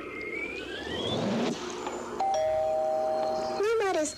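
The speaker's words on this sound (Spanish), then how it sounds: "Ah, voy a tocar el timbre. Toquemos el timbre." A doorbell in the video game Little Misfortune chimes with a clear sustained ding tone, then a second ringing chime rises near the end, over soft background game music.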